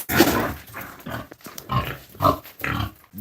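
Breeding pigs grunting and squealing close by in short, irregular bursts, with several animals calling over one another.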